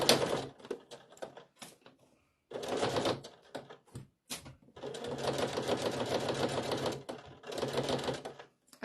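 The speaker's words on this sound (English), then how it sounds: "I'm just gonna sew at 1/4 inch all the way around." A sewing machine runs a quarter-inch seam around fabric for a stuffed Halloween ghost, bursts of rapid mechanical clatter stopping and starting with short pauses, close and clear.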